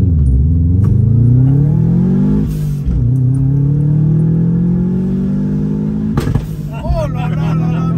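Subaru STI engine with anti-lag revving hard from inside the car, a loud rising drone that climbs and falls, then holds steady near the limiter, with sharp pops and crackles.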